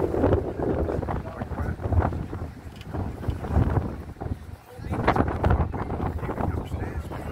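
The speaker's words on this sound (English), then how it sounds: "it's getting windy as you go here, and it's also getting cold" Wind blows beside the River Seine in Paris, rushing in loud surging gusts against the microphone with rumbling lows, easing briefly before swelling again.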